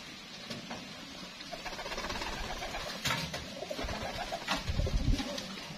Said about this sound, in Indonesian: Ini merpati grisel Megan.